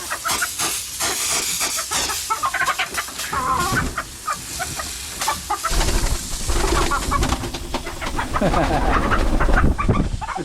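A flock of chickens in a chicken coop clucks and squawks in a loud, agitated jumble, with a steady hiss underneath and no clear talk.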